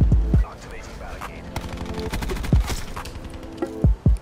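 Suppressed MX9 fire in a Treyarch Call of Duty match, fitted with hybrid mags, comes as short muffled bursts of rapid shots mixed with other in-game effects, while a player talks over the action.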